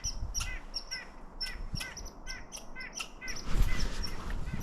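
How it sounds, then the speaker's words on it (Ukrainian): High, repeated chirping squirrel calls come from a tall tree at some distance. They sound in short bursts over a low rumble of background noise, with a heavier rustle near the end. "які звуки можуть робити білки"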